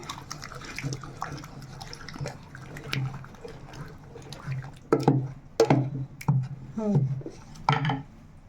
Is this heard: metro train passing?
no